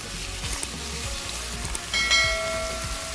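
A quarter kilo of chicken breast sizzles in a pan of hot melted ghee, giving a steady, close crackling hiss with a few faint metallic clinks partway through.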